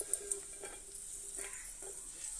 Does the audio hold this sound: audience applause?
no